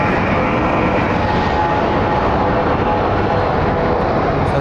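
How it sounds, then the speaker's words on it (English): A Southwest Airlines jet arriving from El Paso roars steadily at an airport, a loud, sustained low engine rumble with broadband rushing noise throughout, no voices. "we have Southwest 621 coming in from El Paso"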